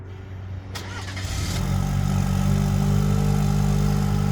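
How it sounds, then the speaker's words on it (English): A 2024 Chevrolet Silverado LT with the 2.7 Turbomax four-cylinder cranks over from cold and catches after about a second, then settles into a loud, steady, close idle drone with no talking. "Let's do a cold start up on it here real quick."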